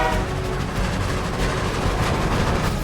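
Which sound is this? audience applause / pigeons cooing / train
train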